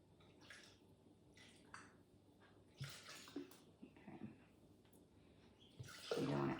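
Water poured into a Thermomix bowl on its scale, soft intermittent trickles and splashes that end in a louder, fuller pour, close by and fairly quiet.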